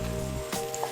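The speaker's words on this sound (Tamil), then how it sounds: "எண்ணெய் நல்லா காஞ்சிருச்சு. ஸோ ஃபஸ்ட்டு வெங்காயம் சேர்த்துக்குவோம்" A sudden burst of sizzling as onions hit hot oil, loud and close, over a steady low hum; no one speaks.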